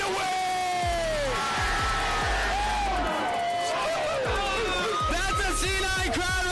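A packed esports arena crowd at the LCS Finals Qualifier between C9 and Team Liquid roars, yelling and cheering loudly and continuously, with whoops and bellows rising over a constant wall of noise.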